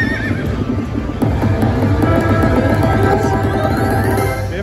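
A horse neigh sound effect from a slot machine plays over rhythmic clip-clop hoofbeats, all loud and close amid the machine's electronic tones.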